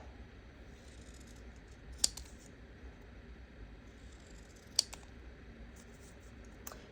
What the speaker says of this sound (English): So I'm going to cut them a little bit smaller now.